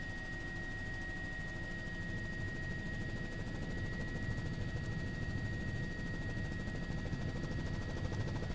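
A steady, droning helicopter rotor hum with a constant engine whine runs without a break, fairly loud and even throughout, from a helicopter flying at 1,500 feet or below near Lake Oroville dam, California.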